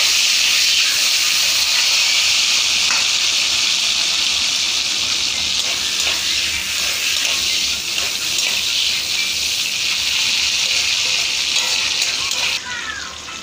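Cashews and raisins frying in a pan give a continuous, even hiss of hot oil, close and fairly loud, steady for several seconds before a slight dip near the end.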